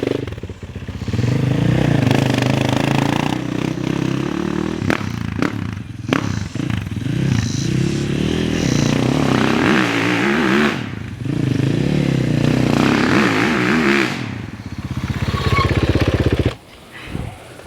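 A 450 motorcycle rides around nearby, its engine loud and steady with repeated revving swells and throttle changes before cutting off near the end.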